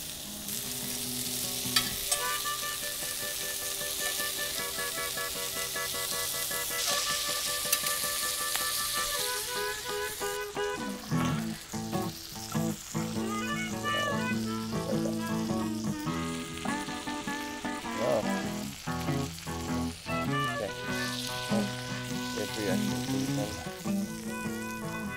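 Elk steaks sear in a hot cast iron pan with melted butter on a PK grill, a loud continuous sizzle broken by spoon clinks and scrapes as butter is basted over the meat.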